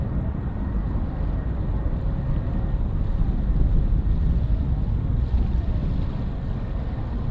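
An Atlas V rocket engine burning during launch, heard as a steady, distant low rumbling roar that continues unbroken and unchanging throughout, with no voices.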